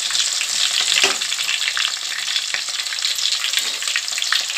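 Onion pieces fry in hot oil in a pan for a small-fish curry, giving a steady, close sizzle with a few light stirring scrapes throughout.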